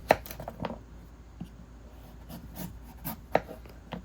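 A knife peels a butternut squash and other root vegetables, a run of short scraping strokes with a few sharper clicks as the blade hits the board, close and fairly quiet.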